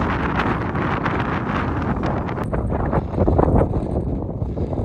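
Strong wind blows across the exposed top of Lose Hill near Mam Tor in the Peak District. It is a continuous roaring, buffeting rush against the microphone that swells slightly in gusts, with no one talking.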